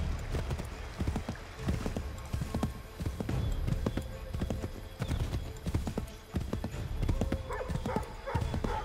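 Horse hooves clip-clop steadily during a ride in the video game Assassin's Creed III, a brisk, close rhythmic trot with occasional snorts, while characters speak over the hoofbeats.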